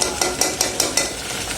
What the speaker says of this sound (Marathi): आणि इथं मसाला माझा चांगला फ्राय होतो आहे.